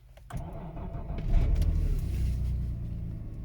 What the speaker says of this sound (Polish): Pierwsze odpalenie, silnik zimny.